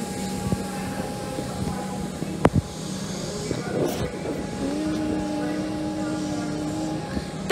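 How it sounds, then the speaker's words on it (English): A Melbourne suburban train carriage moving through the city centre gives a steady, moderately loud rumble with a sustained tonal hum, a sharp click a third of the way through, and a shifting whine toward the end. "I think we saw this carriage at Flagstaff"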